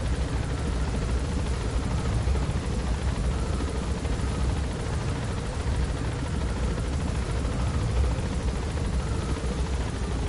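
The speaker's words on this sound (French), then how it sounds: "Vous voyez quand même que ça reste quand même assez lent relativement pour un hélicoptère." Rotor thrum of a helicopter in flight in the video game Metal Gear Solid V: The Phantom Pain, a steady, loud broadband drone with constant chop, continuous throughout with no talk.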